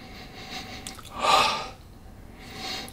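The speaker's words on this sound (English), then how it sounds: "now let's have a first sniff" A close, single inhaled sniff over a glass of Ardbeg Uigeadail Scotch whisky, a soft breathy draw rising and fading in the middle, with lighter breaths before and after in a quiet room.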